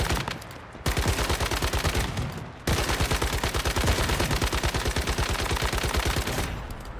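A weapon in the video game Star Citizen fires in long, rapid automatic bursts, a dense rattling stream of shots broken by brief pauses. It is loud, close and has no talking over it.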